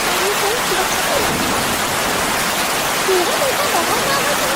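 Steady rain pours down in an animated story about a mother bird and her chick sheltering in a nest, a continuous hiss of falling water with a child's and mother's voices talking over it.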